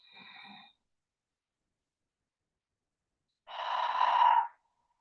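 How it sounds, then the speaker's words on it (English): Slow deep breathing during a kundalini kriya exercise: a soft, short breath at the start, a long pause of silence, then one longer, fuller breath later on, close and alone. "2 more deep breath in."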